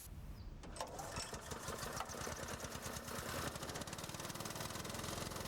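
Air compressor motor on fire equipment starting up, a rapid pulsing chug that settles into a steady, fast mechanical running rhythm, fairly close and continuous.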